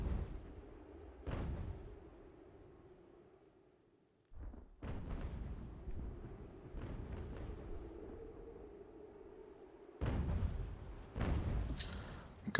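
Canister artillery fire in the strategy video game Ultimate General: American Revolution, heavy booming shots and rumbling volleys in bursts with brief gaps, over low battle ambience.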